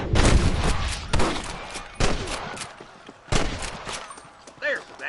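Sniper-clearing gunfire in Red Dead Redemption: several loud, sharp gunshots at irregular intervals over a busy battle background, with shouting voices between the shots.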